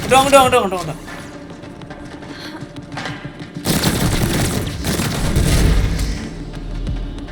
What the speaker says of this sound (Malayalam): ആ സാധനത്തിലേക്ക് വെടിവെക്കടാ